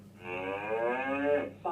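A black and white cow gives one long, loud, low moo that slowly falls in pitch and ends abruptly, played as part of an animal-sounds learning game for children, with no voices over it.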